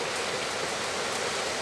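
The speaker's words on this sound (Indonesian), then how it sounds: "Maaf hujan ya, Sob, gak kedengaran ya." Steady rain pours down outdoors, a dense even hiss of drops hitting surfaces that fills the whole moment with no gaps and no voices.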